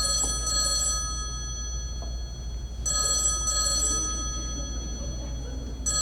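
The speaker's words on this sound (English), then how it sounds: "Answer the phone, Donald?" A telephone bell rings in repeated bursts, three clear trills with short pauses between them, loud and bright over a steady low background hum.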